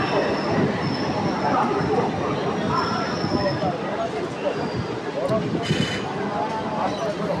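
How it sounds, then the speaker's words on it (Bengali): A Howrah–Tarakeswar EMU local train rolls into Liluah station with a steady loud rumble of wheels and carriages, thin wheel squeals rising over it, and a voice talking faintly beneath. "আমাদের ট্রেন এখন প্রবেশ করেছে লিলুয়া স্টেশন।"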